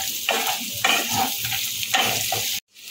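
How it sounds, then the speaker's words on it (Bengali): Dry-roasted peanuts are stir-fried in a pan for Kung Pao chicken, giving a continuous close sizzle with rhythmic scraping stirs before the sound cuts off abruptly. "হালকা একটুখানি নেড়ে নেব।"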